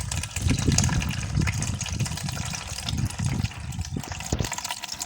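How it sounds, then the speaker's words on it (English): Soya beans are washed by hand in water, giving a close, continuous sloshing and swishing of water and beans with uneven surges, with no talk. "Just wash it the way you would wash beans for moi moi."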